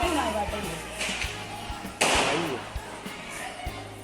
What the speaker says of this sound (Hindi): मामा का पटाखा।